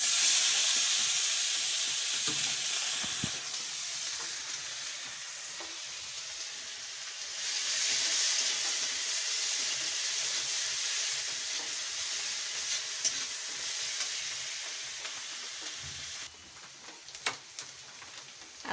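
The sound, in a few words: onion paste frying and stirred in pan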